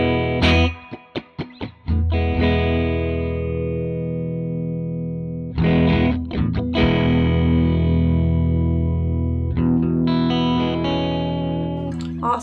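Electric guitar played through a Pigtronix Cosmosis stereo reverb pedal, a few quick plucked notes and chords that ring out into long sustained, shimmering washes, loud and close with no talking.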